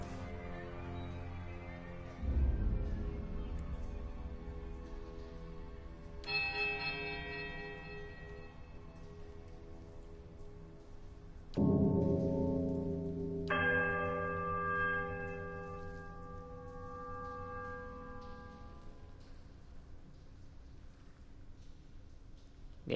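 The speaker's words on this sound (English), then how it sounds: "You heave at the bell and it swings back in the other direction. The clapper strikes a low, powerful note against the heavy iron." Large heavy iron bell in a video game, struck twice with a low, powerful ringing note that decays slowly after each strike, with higher tones sounding between the strikes and no talking.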